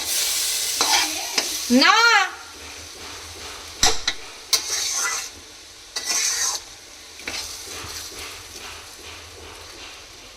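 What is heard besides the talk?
lentils (dal) frying and being stirred in a pan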